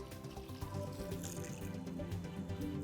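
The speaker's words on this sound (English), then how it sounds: "now that the water is coming out clear" Water running steadily out of a whole house filter during a backwash, a continuous close splashing gush like a tap pouring into a sink.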